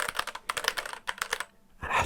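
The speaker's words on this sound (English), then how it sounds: "this is a mechanical keyboard" Mechanical keyboard keys typed in quick, uneven bursts of sharp clicks and clacks, close and fairly loud, with a short pause before a final louder flurry of keystrokes.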